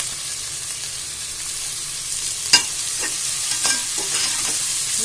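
Three thinly sliced onions and eight green chillies fry in hot oil with a close, continuous sizzle, broken by a few sharp scrapes and knocks as they are stirred.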